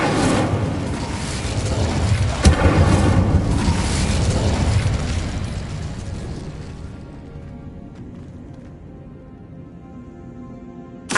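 Fiery spell blast from the Incendio fire spell in Hogwarts Legacy, a loud booming burst that roars for several seconds and then fades into a quieter rumbling tail.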